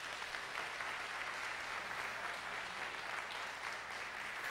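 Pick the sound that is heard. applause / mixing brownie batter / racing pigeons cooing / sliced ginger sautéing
applause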